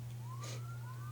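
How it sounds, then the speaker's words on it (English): A police siren sweeps upward close behind a house, heard faintly through an open window as a thin rising wail over steady room hum. "Goodness gracious. It's like right behind my house."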